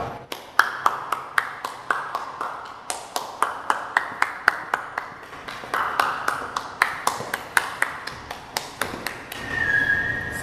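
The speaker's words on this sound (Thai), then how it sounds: "ขอเสียงปรบมือครับ" A studio audience at a Thai television talk show applauds steadily, with sharp distinct claps forming a sparse, continuous patter over roughly ten seconds and no talk.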